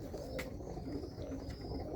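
Birmingham Roller pigeons coo softly and faintly amid outdoor background noise, with a few brief chirps rising over a steady low rumble.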